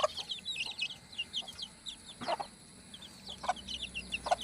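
A mother hen and her four chicks on a farm: soft repeated clucks from the hen with high thin peeping of chicks scattered throughout, close and fairly quiet.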